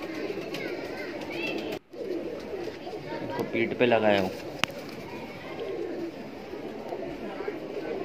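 Pigeons coo at a pigeon loft holding Kaldume pairs, soft and fairly near, with a louder burst of cooing midway while someone talks over them.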